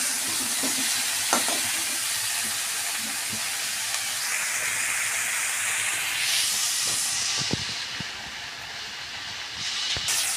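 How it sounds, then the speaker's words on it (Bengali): Pumpkin-stem chochori ingredients frying in a pan, a dense continuous hiss and sizzle with occasional stirring clicks, close and loud, the sizzle easing and shifting toward the end with no voices. "এটা আমি 5 মিনিট একটু সাঁতলে নেব বা একটু ভেজে নেব"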